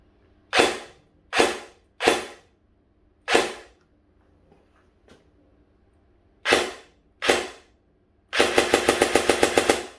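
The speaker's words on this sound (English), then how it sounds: "Flip it to full auto. Nice respectable rate of fire also." An EMG x Ares Keltec RDB17 airsoft AEG fires six sharp single shots with pauses between them, then a quick full-auto burst of about ten rapid cracks at close range.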